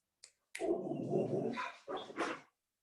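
A dog barks close by: a quick yip, then a long, drawn-out bark followed by two short barks.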